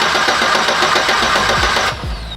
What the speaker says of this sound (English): Now I'm going to start the motor and just let it crank.